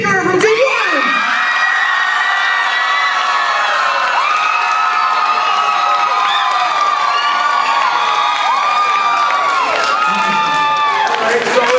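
At an improv comedy show, a crowd makes noise for a team's guest: a continuous loud roar of high-pitched screams, whoops and cheering with some clapping underneath, steady and close throughout.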